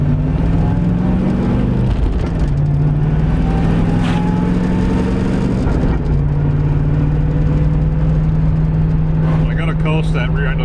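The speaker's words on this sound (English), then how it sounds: "the rear end in this car gets noisier every single time I drive it" Inside a moving Chevrolet Camaro IROC-Z, a worn rear end, suspected to have a failing pinion bearing, gives a steady whining hum over constant loud road and engine drone.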